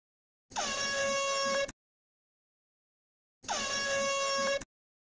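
Two long, loud air horn blasts, each lasting just over a second, separated by a few seconds of silence.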